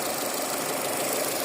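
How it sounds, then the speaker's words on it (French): A car engine idles smoothly up close, a steady, even mechanical hum with a faint rattling texture and no change in pace, heard alone without talk. "Le moteur qui tourne rond."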